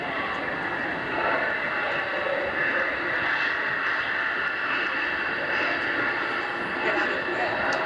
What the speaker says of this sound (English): Those 4 giant Rolls-Royce turbofan engines with afterburners, 20-ton airplane, the supersonic transport.